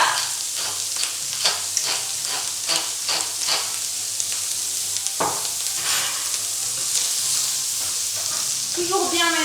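Morel mushrooms seasoned with salt and pepper sauté in a hot pan, a constant close sizzle broken by rhythmic scraping strokes of stirring about every half second, with a brief voice-like sound near the end.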